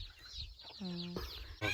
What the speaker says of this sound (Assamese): পুৰা লোকেল মুৰ্গী ভৰ্তি ইয়াতে।